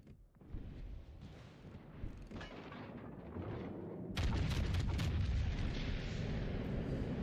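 Warship guns in World of Warships Legends fire in heavy, booming salvos, one after another, and swell into a dense, loud barrage of overlapping blasts near the end.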